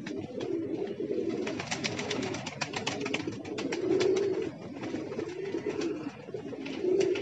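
A returned pigeon coos in repeated low, throaty rolls, fairly close, over a steady background of faint outdoor noise and scattered clicks, with the cooing swelling and fading several times.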